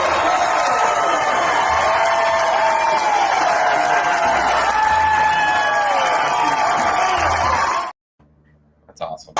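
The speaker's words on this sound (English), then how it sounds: "That crowd went nuts." A large baseball crowd roars and cheers for a batter, a loud, continuous mass of voices with whoops and shouts for about eight seconds before cutting off abruptly.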